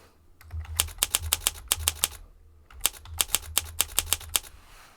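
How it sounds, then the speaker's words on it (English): Typewriter sound effects from writing software, triggered by typing on a computer keyboard: two bursts of crisp, evenly spaced clacks, about ten strikes each with a short pause between, close and clear with no talking. "when I'm typing, I do get the feedback of the sounds of a typewriter as I work"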